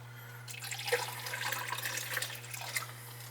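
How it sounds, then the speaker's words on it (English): Water trickles and splashes steadily into a shallow air conditioner tray, a soft continuous pouring with small bright drips, over a constant low electrical hum. "We're just putting water in there, right? On the tray."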